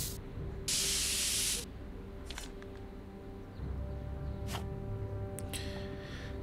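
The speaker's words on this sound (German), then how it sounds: "ob wir ein bisschen was über das Graffiti drüber sprühen können" Spray can hissing over graffiti in the Back to the Future adventure video game: a loud sustained burst, then a few short spritzes and a longer softer spray, with game ambience humming underneath.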